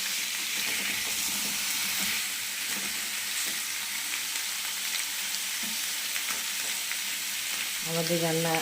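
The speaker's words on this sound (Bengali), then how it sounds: "একটু ভাজবো এগুলো।" Vegetables for a spinach dish fry in a pan with a loud, steady sizzle and hiss, broken by occasional stirring scrapes near the end.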